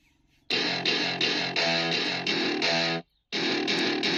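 Pagaria Grenade PG909 pocket radio playing a song at full volume, loud distorted music with pulsing rhythmic beats, a brief drop to near silence before the music resumes.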